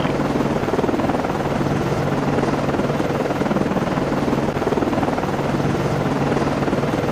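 Helicopter in the naval submarine game Cold Waters, a steady loud rotor thrum with a rhythmic beating throb, continuous and unchanging throughout.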